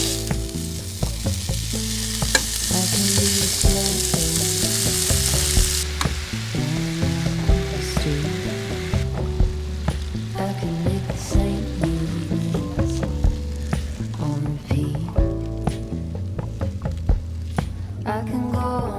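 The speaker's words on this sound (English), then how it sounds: "I'm going to start cooking the steak." Steak frying in a pan at a fall truck campsite in Utah, giving a steady close sizzle with occasional stirring and scraping over a strong background of music.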